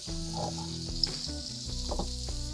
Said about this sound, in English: we're gonna cook this steak until it gets nice and seared on the other side